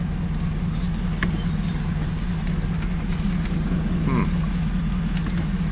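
1989 Pontiac Trans Am with 81,000 miles being shifted into reverse: a steady, close, low engine idle rumble with a brief faint clunk midway.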